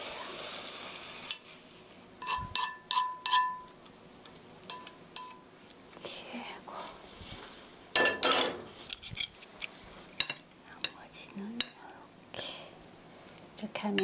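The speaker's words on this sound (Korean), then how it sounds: "접시 중앙에 이렇게 위가 약간 봉긋하게 담아주시고요." Soft scrambled eggs with cucumber are spooned onto a plate, with light scraping, clinks of a utensil against the pan and dish, and a quiet voice murmuring in between.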